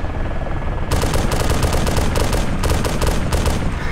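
Automatic gunfire in the video game Arma 2, with loud bursts of rapid shots in several clusters over a steady background, no talking.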